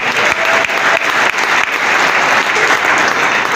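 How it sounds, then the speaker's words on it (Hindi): Loud, sustained applause from a seminar crowd for a wellness organisation, many hands clapping in a thick continuous roar with occasional sharper accents. "मैं चाहूंगा इस संस्था के बाद जोरदार वाले ताली, जोरदार"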